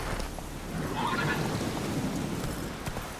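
Roach, a horse in a video game, whinnies once amid hoof clip-clops and a rumbling, stormy background, fairly close and with no talk.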